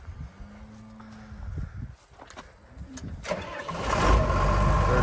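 The engine of a 1998 Ag-Chem Rogator 854 sprayer being started: a whirring starter crank catches into a rough, rising diesel rumble that grows louder and settles into a heavy idle, close by, with faint voices underneath.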